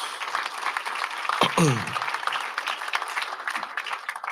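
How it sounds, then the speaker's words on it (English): An audience at a church celebration applauds, a dense wash of clapping running steadily throughout with a brief voice or cheer rising near the middle. "let's give everyone a round of applause"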